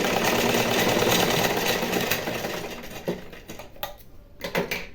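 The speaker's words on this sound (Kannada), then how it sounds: "ಇಲ್ಲೂ ಕೂಡ ಬೆಲ್ಟ್ ಪಟ್ಟಿಗೆ ಸ್ಟಿಚ್ ಹಾಕ್ಕೊಡ್ತೀನಿ" A sewing machine stitching a cross belt strap, running fast and steady at close range for about three seconds, then slowing into short stuttering bursts and clicks as it stops.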